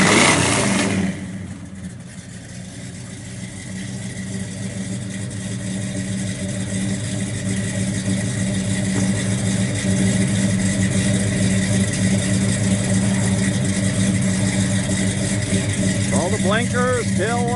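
A 1966 Chevrolet Chevelle SS 396 with a 4-speed runs with a steady, thumping exhaust rumble, holding an even idle throughout, heard close up while someone talks over it.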